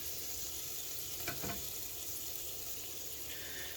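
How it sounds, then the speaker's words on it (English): Vegetables sauté in oil on a flat griddle, giving a steady, soft sizzle throughout with a couple of brief scraping stirs partway through. "I added a little bit of oil. You can use butter, and we're just going to saute these"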